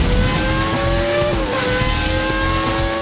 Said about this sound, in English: It's the distinctive sound of components moving at speeds that would destroy an ordinary engine.